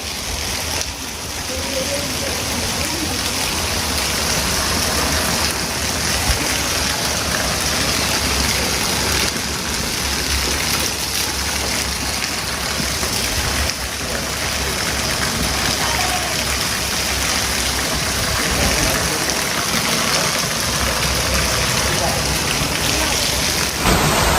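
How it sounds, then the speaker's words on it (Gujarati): Heavy monsoon rain with wind pours down steadily in north Gujarat, a dense, loud wash of sound that holds without letup throughout. "વરસાદ આવી ગયો છે"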